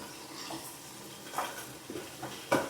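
Ginger garlic paste and green chillies frying together in a pan for a Mangalore-style chicken curry, a faint sizzle broken by a few soft clinks and scrapes of a spoon stirring.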